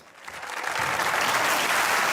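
Studio audience at a comedy talk show breaks into applause, starting softly and swelling within the first second into a loud, sustained wall of clapping.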